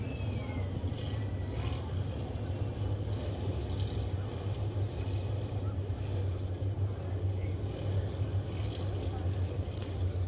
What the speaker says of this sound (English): you get to hear the sounds of these amazing Action Sprint Tour. Great engines